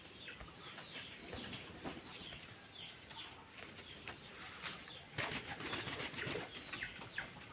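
Pigeons flapping their wings in flight in an open outdoor setting, with a steady, busy flutter of many wings, a few soft coos and bird calls, and a burst of louder flapping toward the end.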